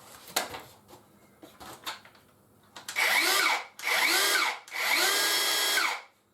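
DeWalt DCS572 18V cordless track saw fitted with a battery and run without its blade: a few clicks and handling knocks, then three loud whining motor bursts that spin up and wind down, close and with no talk.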